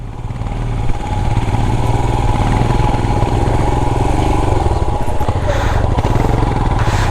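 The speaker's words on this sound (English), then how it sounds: "Perks of having an adventure motorcycle." Royal Enfield Himalayan BS6 adventure motorcycle ridden on a road toward the Devarayanadurga Hills, its steady engine drone and wind rumble loud and close throughout, holding an even pace without pauses.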